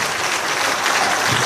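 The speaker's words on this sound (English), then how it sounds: "let's give these candidates another round of applause," Sustained applause from an audience at a general election declaration in Taunton Deane honours the candidates, a dense, steady clatter of many hands filling the hall throughout without pause.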